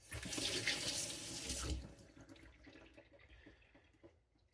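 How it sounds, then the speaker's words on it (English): Running water rinses wet-and-dry sanding paper used for knife sharpening, a loud close gush for about two seconds before it stops, leaving faint drips and small handling sounds. "And then I'm rinsing the paper because I don't want those grits to be mixed."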